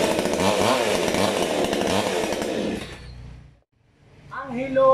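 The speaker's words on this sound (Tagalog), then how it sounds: "Testingin ko po, 22 inches na petrol chainsaw." A 22-inch petrol chainsaw roars loudly and close for a few seconds, then cuts off into near silence before a voice begins speaking.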